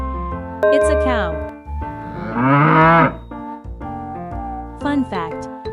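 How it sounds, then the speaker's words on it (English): A cow moos with a long, deep, loud call, heard alongside a light melodic background tune, with short musical phrases before and after the moo. "It's a cow."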